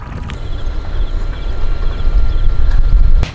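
An electric motor-driven paddle board runs at full throttle into a headwind on water, giving a steady low rumble with water wash that swells slightly louder toward the end, close and continuous without talk.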